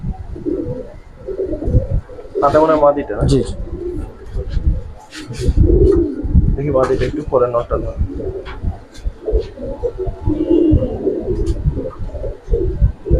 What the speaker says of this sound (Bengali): এটা একটা পুরান জাতের কবুতর।